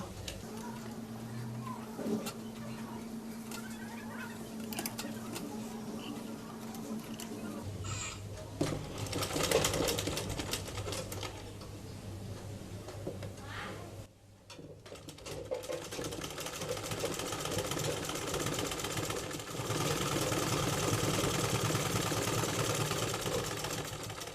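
A sewing machine stitches the side seam of a folded baby frock, running in a steady, continuous whir that grows louder and busier partway through, with background noise throughout.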